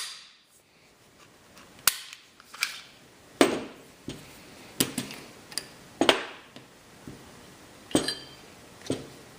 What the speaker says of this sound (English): So we're going to field strip this real quick.